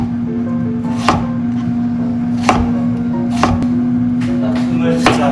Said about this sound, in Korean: 감자랑 양파를 먹기 좋은 크기로 깍둑 썰기 합니다.